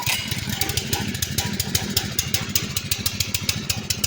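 A small gasoline engine running steadily after a carburetor cleaning and fresh gas, a close, loud, rapid rhythmic putter that keeps an even pace throughout.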